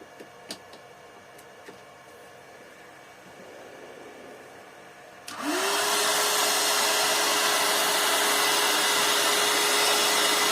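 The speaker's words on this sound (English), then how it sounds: "I'll just plug in the heat gun." A heat gun used for painting alloy wheels switches on about halfway through, jumping from quiet room ambience to a loud, steady blowing hiss with a thin whine that holds to the end.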